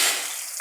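Fenugreek seeds and two chillies frying in hot oil, a brief, close, steady sizzle and hiss with no talk over it.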